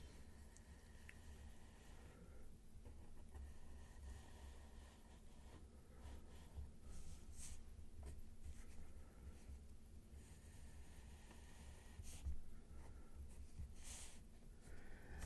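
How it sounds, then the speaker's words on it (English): A pencil scratches across paper while tracing a cartoon, producing soft, irregular strokes close by against a quiet, steady room hum, with occasional brief pauses between strokes. "trying to trace a cartoon"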